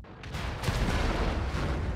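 Tank cannon fire in World of Tanks, a heavy gun blast that starts sharply and fills the clip with a loud, sustained rumble and crackling tail, no voices.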